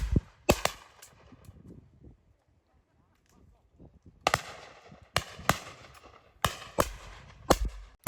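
Shotgun blasts at a simulated game shoot on a sporting club farm: a couple of sharp close reports, a quiet gap with faint voices, then a rapid run of several more shots.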